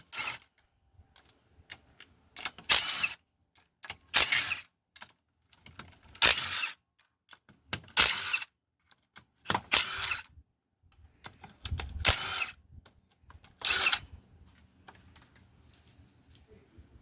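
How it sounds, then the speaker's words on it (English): A power drill or impact driver removing the engine cover bolts on a 2006 Honda 250ex ATV, firing in about eight short bursts a couple of seconds apart, with quiet handling noises in between. "We'll remove all these cover bolts."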